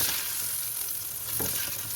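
Eggplant frying in just one spoonful of oil in a pan, a steady close hiss of sizzling with a brief soft clack of a utensil partway through.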